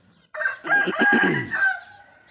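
A rooster crows once, loud and close, a long drawn-out call with a rising start and a fading tail.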